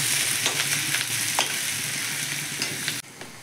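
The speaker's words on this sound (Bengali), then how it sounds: "পেঁয়াজ কুচিটা একটু হালকা লালচে করে ভেজে নিই।" Chopped onion sizzles steadily in a hot pan, a dense continuous frying hiss with occasional stirring scrapes, close and loud with no voices.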